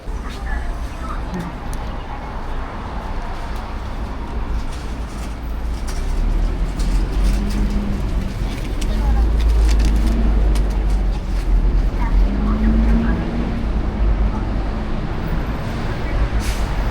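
Many motorbikes and other traffic pass along a street in Seoul, a steady engine rumble that swells louder through the second half, with people talking over it.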